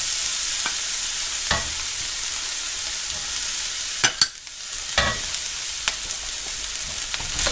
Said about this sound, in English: Fry the rice for a minute or two. Mix it up.